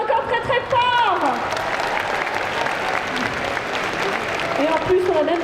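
Loud, steady applause from a convention crowd at a cosplay competition, filling the whole stretch, with whoops and shouted voices rising above the clapping.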